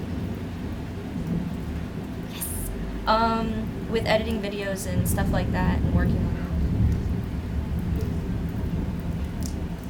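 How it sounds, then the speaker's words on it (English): Thunder rumbles through steady rainfall, a low continuous roll that swells in the middle while someone talks over it close to the microphone. "Ooh, the thunder."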